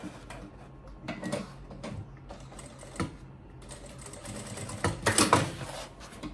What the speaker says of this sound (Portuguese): Vou fazer primeiro uma costurinha aqui pra prender esse ponto central no lugar